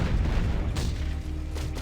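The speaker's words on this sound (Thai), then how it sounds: "มันระเบิดใส่แล้ว" Explosion in the war strategy game Art of War 3, a couple of sharp booming blasts over a steady rumbling battle background, with no voices.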